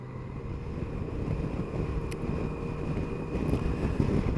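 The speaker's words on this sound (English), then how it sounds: "I'm currently riding my Tracer 900 GT." Steady, loud wind rush buffets the microphone while riding a Yamaha Tracer 900 GT motorcycle, with low broadband roar and engine drone running throughout without pause.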